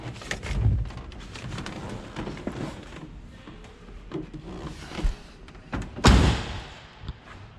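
A heavy door on a 1979 Chevrolet K5 Blazer slams shut with a loud, solid thud near the end, after some rattling and handling noises close by.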